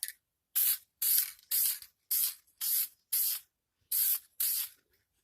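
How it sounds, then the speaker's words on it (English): Polyurethane sealer sprayed from a can onto a tile template line, nine short, sharp hissing bursts in a fairly even rhythm with brief silences between, close and clear. "I'm going to spray it, okay? I've got this polyurethane, okay, and I'm going to seal it."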